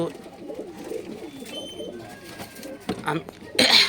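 Domestic pigeons, including Giribaz and Madrasi breeds, coo softly in low, rolling murmurs at a home loft, with someone talking over them and some rustling and clatter near the end.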